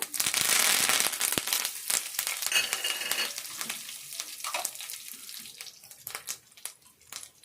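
Curry leaves hit hot oil and set off a loud, close burst of sizzling and crackling at the start. The sizzle then settles into a quieter, uneven spatter.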